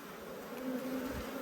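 Honeybees hum around an opened hive in a close, steady buzz that swells briefly midway, with no voices.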